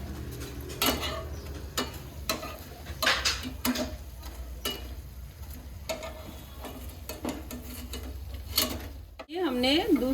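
Bread slices frying in ghee for a sweet, soft sizzling with scattered clinks and scrapes of a utensil stirring and turning them in the pan.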